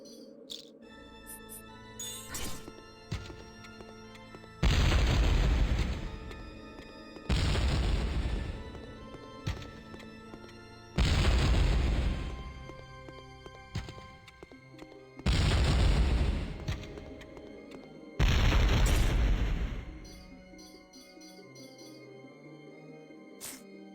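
Five booming bomb explosions from the PS1 game TechnoMage: Return of Eternity, each a loud broad blast lasting about two seconds, spaced roughly every five seconds over game music with tinkling chimes.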